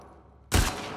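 A single gunshot in The Last of Us Part II lands a headshot, a sudden loud blast cutting in halfway through after near silence and trailing off with a short decay.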